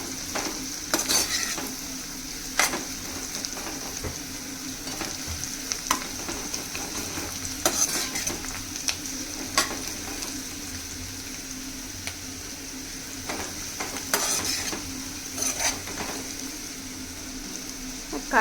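Chopped onions softening in hot oil in a pan, steady close sizzle with periodic spatula scrapes and taps against the metal.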